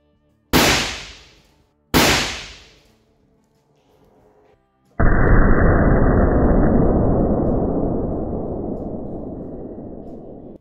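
Remington air rifle with a 12-inch barrel at full charge firing at steel test sheets and a concrete block: two sharp loud cracks a second apart, then after a pause a long heavy roaring burst that slowly fades.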